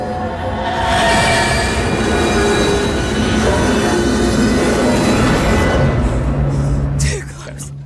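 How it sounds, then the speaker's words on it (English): In the sci-fi horror game Alien: Isolation, a train roars past close by with a loud, sustained rumble and clatter. It fades to a hum as it moves off, while a voice talks over it. "better not get hit with the train"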